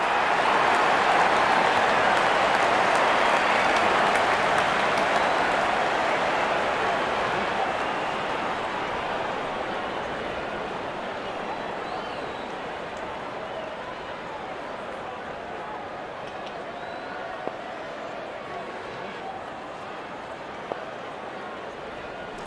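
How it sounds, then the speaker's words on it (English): Broad, steady crowd roar at a cricket match, India versus New Zealand, loudest at first and slowly easing, with a few sharp claps standing out near the end. "The crowd is enjoying every bit of this action."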